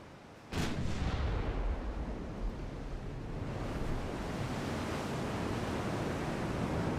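Warship firing a broadside in the naval video game Ultimate Admiral Dreadnoughts, one sharp blast followed by a long rushing roar like surf or wind that fades slowly and holds steady to the end.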